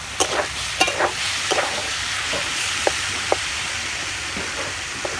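Eggs are stirred into hot, boiling water in a cooking pan, with a steady sizzling hiss broken by a few sharp scrapes and clinks of the spoon.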